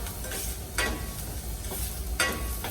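Onions sizzling and sweating in a pan for quinoa risotto, a steady close frying hiss with a couple of brief stirring scrapes, no talk.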